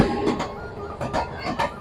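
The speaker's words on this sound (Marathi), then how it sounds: "मुंबईच्या दिशेने धावणारी बघा रेल्वे भरधाव वेगाने निघून जाणार आता." A train bound for Mumbai speeds past a halted train standing on a siding, heard as rhythmic clattering wheel beats over rail joints in pairs under a continuous rumble, fairly loud and with no talk.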